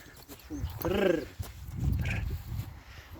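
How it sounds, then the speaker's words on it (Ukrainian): A stallion gives a short whinny and snorts nearby, with murmuring voices and faint shuffling in the background. "Дуже гарний жеребець"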